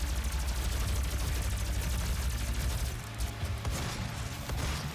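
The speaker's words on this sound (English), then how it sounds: "the plasma cannon's probably your best option" Rapid weapon fire from a plasma cannon in the video game DOOM, a dense stream of repeated bursts with heavy low rumble, continuous and loud without talk.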